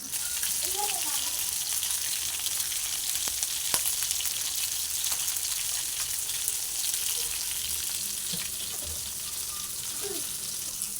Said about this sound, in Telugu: ఇప్పుడు మరొకసారి అనేది మళ్ళీ వేగించుకున్నాం ఒక టూ మినిట్స్